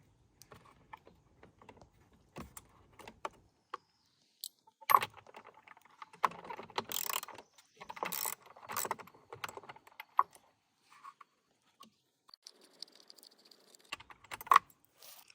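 Scattered close clicks, taps and rattles as a spark plug is pulled from an old outboard motor found in a junk pile and a compression tester is hooked up, with irregular bursts between quiet gaps.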